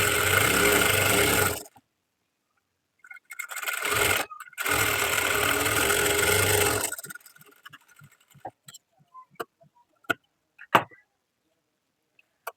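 A sewing machine stitches the front of a blouse in two long continuous runs, then stops, and scattered clicks and taps of handling the fabric follow.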